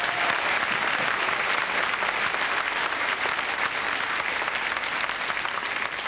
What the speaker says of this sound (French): Madame, monsieur, sous vos applaudissements